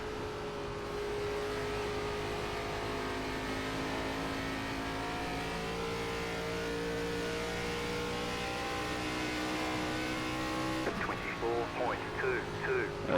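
A NASCAR ARCA race car engine in iRacing at Rockingham Speedway holds a loud, sustained high-revving drone through the corners, with a driver's voice coming in near the end.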